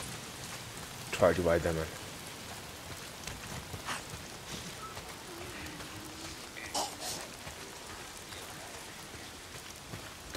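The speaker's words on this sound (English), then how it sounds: "If it's not the freaks, it's the goddamn rain." Steady rain patter in the video game Days Gone fills the background with a few louder splashes and thumps, while a voice speaks briefly over it.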